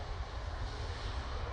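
A Ryanair airliner passes near an airport, its engine roar a steady broadband rumble with strong low end, constant and unbroken throughout without talk.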